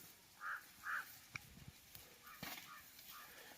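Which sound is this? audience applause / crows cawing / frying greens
crows cawing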